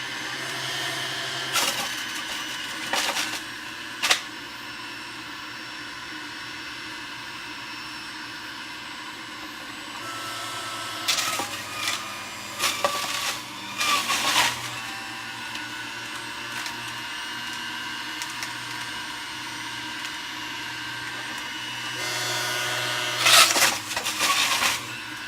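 A Breville JE98XL juicer runs at low speed on bok choy, its motor holding a steady close whine. Bursts of grinding and crunching come through whenever the greens are fed in.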